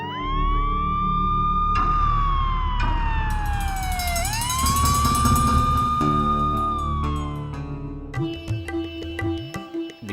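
Ambulance siren wailing loudly and close, with several overlapping rising and falling tones that sweep and shift, then break into choppy bursts near the end.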